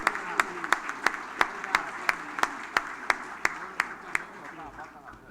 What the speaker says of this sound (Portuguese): gostaria de pedir a todos vocês uma grande salva de palmas por essa palestra brilhante do professor